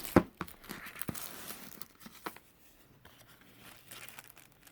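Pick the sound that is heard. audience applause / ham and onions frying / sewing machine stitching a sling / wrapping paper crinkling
wrapping paper crinkling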